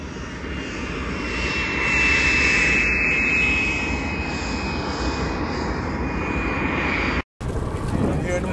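Inside a plane approaching to land, a steady loud aircraft engine drone fills the cabin with a faint high whine, then cuts off briefly before resuming near the end.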